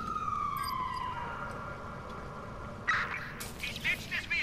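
A police car siren in the video game Watch Dogs 2 wails and sweeps down in pitch and fades, followed by short bursts of sharper electronic yelps near the end.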